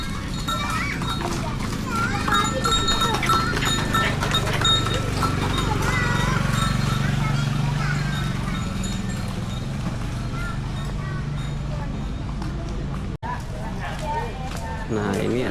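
A horse pulling a delman carriage clops its hooves at a Betawi cultural heritage site, a steady rhythm heard beneath continuous crowd chatter and children's voices nearby.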